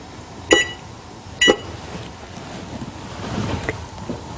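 Oven timer being set for sourdough bread baking, two short sharp electronic beeps about a second apart, close and clear over a low background hiss.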